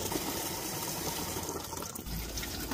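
Boiled laksa noodles being rinsed under running water in a kitchen, a steady, close rushing stream with no talking.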